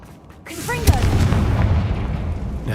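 A Confringo fire-blast spell in the Hogwarts Legacy video game goes off as a sudden loud boom and then rolls into a sustained rumbling roar, with a voice heard briefly around it.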